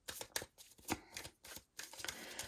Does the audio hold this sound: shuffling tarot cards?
yes